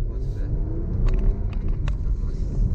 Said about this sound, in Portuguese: Essa aqui é a Panameira, essa aqui. Ela é híbrida, né?